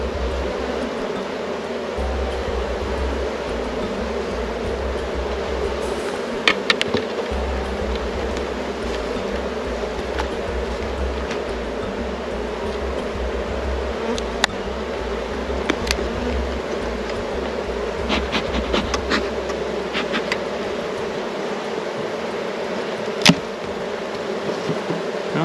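Honeybees drone steadily from an opened beehive, a dense continuous buzz close by, with occasional handling clicks and knocks from the frames.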